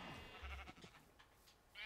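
A blocky cow in Minecraft lets out a low, drawn-out moo, faint and slightly muffled, with quieter game sounds around it and no talking.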